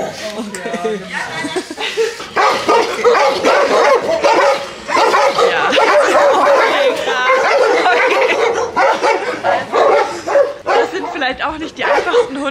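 Several dogs bark and yip over and over inside an animal shelter in Hamburg, loud and close, while people talk nearly the whole time.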